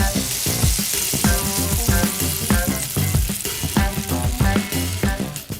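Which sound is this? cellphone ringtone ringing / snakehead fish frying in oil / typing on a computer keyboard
snakehead fish frying in oil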